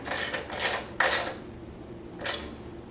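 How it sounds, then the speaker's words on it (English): A 14mm socket ratchet tightens hardware on industrial sewing machine table legs, giving four short, loud bursts of ratcheting clicks with brief pauses between them and no talk. "tighten it up with a 14mm socket"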